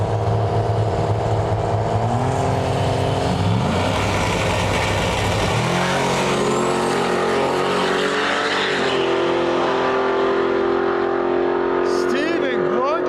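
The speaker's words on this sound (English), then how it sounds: "pulling up with his badass Ram Cummins diesel powered hot rod" A Ram Cummins diesel-powered hot rod truck roars at a race, its loud engine note rising and shifting as it accelerates and passes, with a commentator talking over it throughout.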